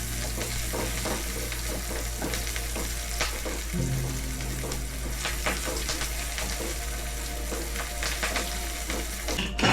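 Frying in a pan while cooking a white pumpkin chicken curry, pieces browning until golden, as a steady close sizzle with scraping stir strokes over a low hum; no one speaks.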